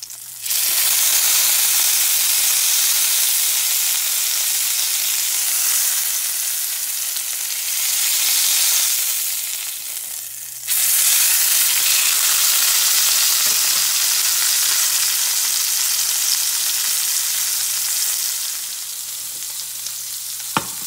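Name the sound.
roast searing in a cast iron skillet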